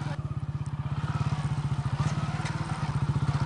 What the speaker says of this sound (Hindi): बुधियारी जो है बड़े मज़े से मस्त होके बाइक चला रही हैं